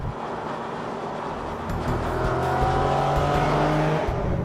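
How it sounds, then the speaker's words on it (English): An Infiniti G37's deep exhaust note rumbles and rises as it accelerates, steady and fairly loud, with road and wind noise underneath. "the exhaust note on the G37 sounds better than the 370Z"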